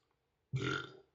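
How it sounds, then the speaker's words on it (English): A single close burp after a sip of Rustbucket beer, a loud sustained belch of about half a second following near silence. "If I burp, sign of good beer."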